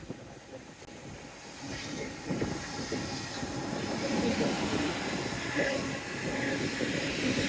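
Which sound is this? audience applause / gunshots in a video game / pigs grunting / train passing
train passing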